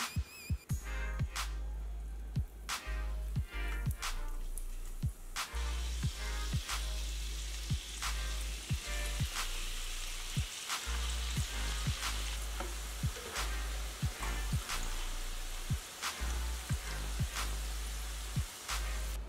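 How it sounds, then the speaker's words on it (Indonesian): Steady, loud sizzling of enoki mushrooms frying in hot oil, with crackles and pops scattered throughout. "setelah enokinya telah campur rata, kita goreng ya"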